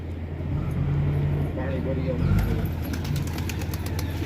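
Soft cooing of a sick pigeon under steady background rumble of passing traffic, with faint flutter near the end.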